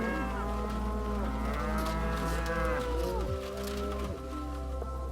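Cattle on a pasture farm low repeatedly, several overlapping drawn-out moos close by, steady and loud throughout with no talking.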